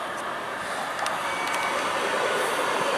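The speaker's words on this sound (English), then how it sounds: "The train seems quiet." A train rolls steadily past, a broad continuous rumble with a light high hiss, holding at an even moderate level throughout with no voices.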